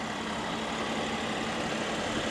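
2024 BMW M2 engine idling, a steady broadband hum and rumble heard close up and alone, continuous with no change in pitch.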